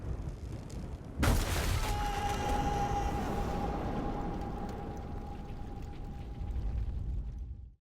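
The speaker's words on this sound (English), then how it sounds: "I thought I'd heard gunshots." A sharp gunshot blast in the wartime video game 11-11: Memories Retold, followed by a long ringing tone and a lingering rumble that slowly fades out over several seconds, with no talk.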